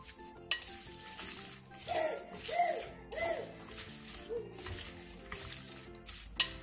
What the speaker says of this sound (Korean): 양념장에 쪽파를 넣고 골고루 버무려주세요